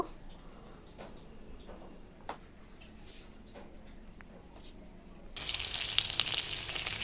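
Nigella seeds and chili tempering in hot oil for a hilsa and eggplant curry: a faint sizzle that swells into a louder, bright hissing crackle as the spices hit the oil.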